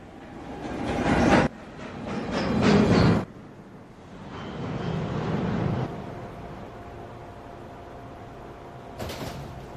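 A Manhattan-bound NYC subway 1 train at Fulton Street station, with loud rumbling, clattering bursts of passing cars, a quieter rolling stretch, and a short sharp hiss near the end.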